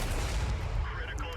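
A tank in World of Tanks takes a shell hit, a heavy booming impact with rumbling low end that fills the short moment.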